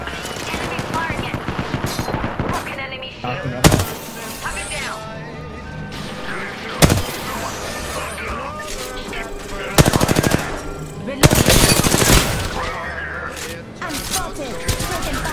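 Gunfire in a shooter video game: rapid automatic bursts and sharp explosive cracks recurring across the clip, loud and dense under game noise, with a voice talking at times.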